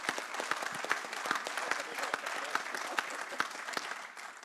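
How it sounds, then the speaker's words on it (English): Audience applause at an international blockchain congress, a sustained burst of many hands clapping in a hall, dense and steady with sharp individual claps standing out, no talking over it. "The type of claps that we're getting, it sucks, to be blunt, right?"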